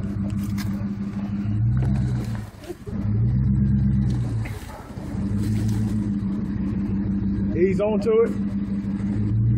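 A Jeep Commander climbs over a large flat rock on an off-road trail at Shoe Creek, its engine droning and surging in several revving pushes and easing off between them, while people nearby talk and call out.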